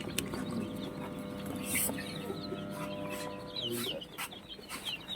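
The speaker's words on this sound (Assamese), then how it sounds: "ইয়াতে আমাৰ এই নতুনকৈ ওলোৱা পোৱালিখিনি দেখিছে, সিহঁতক দানা পানী দিলোঁ" Newly hatched chicks chirp faintly and steadily while being fed grain and water, with scattered clucks from nearby fowl and a low background hum.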